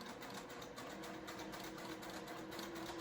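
A semi-industrial sewing machine runs continuously as it stitches a crossbody zip bag over a thick hump, a faint, even mechanical whir with a rapid needle rhythm.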